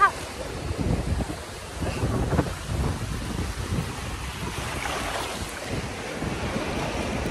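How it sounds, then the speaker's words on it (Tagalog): Rough surf at Playa San Juan beach in Alicante, Spain roars continuously with heavy wind buffeting the microphone, a big wave surging through the middle; no talking. "may malaking wave!"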